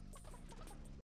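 Chicken clucking in the video game Realm Royale, a dense, continuous burst of fowl clucks over busy game sound, lasting about one second at steady loudness before cutting to silence.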